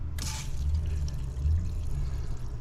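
Water runs into a Dometic 8740 macerator toilet under repair after its add-water button is pressed, a steady close rushing hiss starting abruptly over a low background hum.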